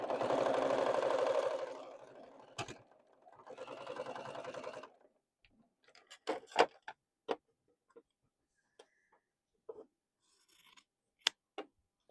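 Sewing machine stitching a seam on a small boxy fabric bag, a steady whirring run followed by a second shorter burst, then scattered clicks and taps as the fabric is handled.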